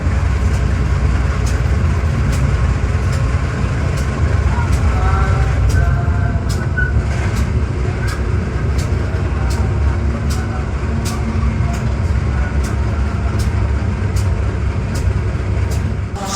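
Inside an economy carriage of the KA Airlangga train in Indonesia, a constant loud rumble of the ride fills the space with rhythmic rail clicks repeating throughout.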